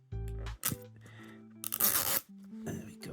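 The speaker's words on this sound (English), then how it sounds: "Just peel off the plastic." Plastic wrap peeled off a Pokéball tin, short crinkling and tearing bursts with scraping rustles in between, close and fairly quiet, with a voice faintly present.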